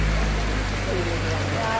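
Dense, steady hiss of heavy rain pouring down, constant and enveloping with a low rumble underneath.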